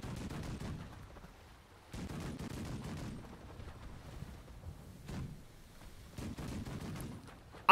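Rapid, muffled bursts of ship-mounted weapon fire in the naval game The Last Leviathan come in several volleys over a faint windy background, distant and fairly quiet.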